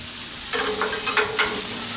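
Steaks sizzle steadily on a Blackstone griddle set to low, a continuous close frying hiss with a few brief louder crackles and stirring scrapes partway through, no talk.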